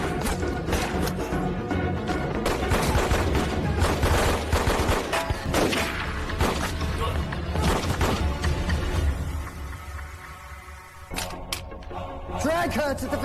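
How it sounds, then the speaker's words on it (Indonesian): Gunfight in an action film with a burst of rapid gunfire and crashing impacts over a dense, loud score, followed by a quieter stretch and a few more sharp bangs near the end. "baku tembak pun tak terhindarkan"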